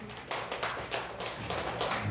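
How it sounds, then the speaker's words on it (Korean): A church congregation applauds together, a steady dense wash of clapping from many hands, somewhat distant and soft, lasting a couple of seconds without a break. "박수 한번 치르시죠"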